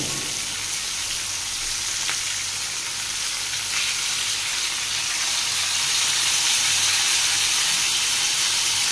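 Masala of tomato and onion sizzles loudly and steadily in a pan, a dense continuous frying hiss that swells slightly toward the end, with no voices.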